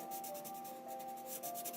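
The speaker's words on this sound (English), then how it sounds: "And I'm also going to use my blender pencil" A blender pencil rubs back and forth on paper while coloring, giving soft, rhythmic scratchy strokes repeated quickly and close up in a quiet room.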